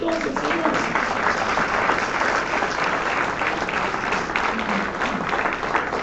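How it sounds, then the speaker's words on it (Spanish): A church congregation at a Sunday Christian service breaks into sustained, dense applause, many hands clapping together at steady volume for several seconds. "Den un aplauso entonces, Señor."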